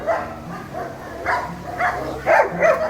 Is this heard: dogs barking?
yes